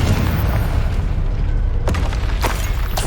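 Rumbling spell explosions in the video game Hogwarts Legacy, a dense, continuous low boom with sharper bursts cracking through near the end.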